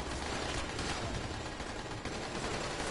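Continuous rapid gunfire in the video game Dying Light, a dense, unbroken burst of shots that stays loud and close for the whole stretch.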